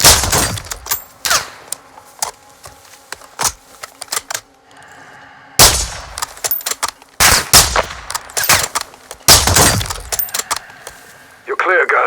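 Rapid bursts of gunfire from Call of Duty: Modern Warfare II, loud and close, clustered in sharp volleys with brief pauses between, mixed with impacts and shattering debris.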